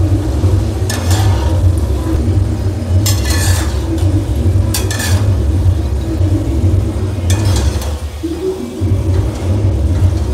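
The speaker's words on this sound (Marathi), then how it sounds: "चांगले लालसर तळून घ्यायचे" Modak dumplings deep-frying in hot oil: a steady, loud bubbling hiss runs throughout with a low rumble beneath, broken now and then by brief sharp scrapes of a utensil.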